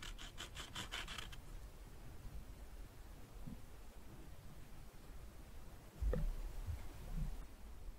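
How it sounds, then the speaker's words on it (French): A baked polymer clay bowl having its edges sanded smooth, with soft repeated rubbing and scraping strokes over low background noise, a brief rhythmic burst at the start and a louder thump near the end. "Après cuisson, vous allez venir poncer votre création pour lisser les bords du bol."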